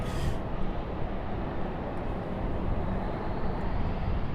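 An airliner departing Raleigh-Durham airport produces a loud, dense broadband roar of jet engines at takeoff power, steady and unbroken for the short span with no talk.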